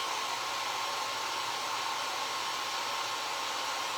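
A hair dryer runs steadily and close by, drying craft glue on the eyes of a nerdy mummy fall decoration, a continuous broadband whoosh with a faint whine and no talk.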